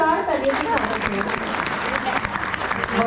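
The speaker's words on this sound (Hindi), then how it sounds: "डॉक्टर साहब का जोरदार तालियों से स्वागत है।" Audience applause at a Rajasthani folk dance cultural show at Bagore Ki Haveli in Udaipur, a dense, steady clapping from a crowd with a voice speaking over it.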